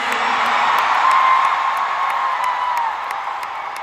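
A large arena crowd at a concert in Stockholm's Friends Arena roars and whoops continuously, a loud, dense wall of cheering and shouting that holds steady throughout.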